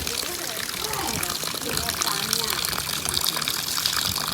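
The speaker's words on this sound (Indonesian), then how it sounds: "Jadi ini sumber airnya dari bawah pohon ini nih." Spring water gushes and trickles out from beneath a tree, serving as a village's clean water source, a continuous close rush of flowing water with voices talking over it.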